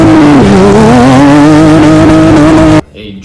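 An ATV running a street-bike motor races a J-series-powered go-kart buggy, its engine holding a loud, steady high-pitched drone with slight pitch wavering, then cutting off abruptly near the end.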